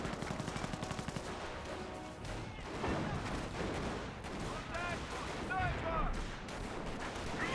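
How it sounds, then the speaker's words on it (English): A mortar half-track barrage in the Company of Heroes game: dense, overlapping explosive booms and gunfire rumble continuously with distant crackling, while a voice talks over the battle. "I think the mortar half track is barraging right there."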